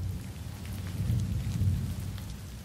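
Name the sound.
thunderstorm with rain and thunder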